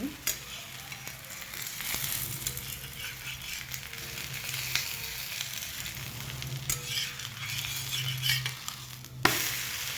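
Methi thalipith flatbread roasting in oil on a pan gives a steady soft sizzle, with occasional clinks and scraping taps of a utensil, fairly quiet and close.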